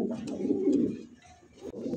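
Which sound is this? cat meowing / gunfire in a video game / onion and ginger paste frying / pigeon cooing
pigeon cooing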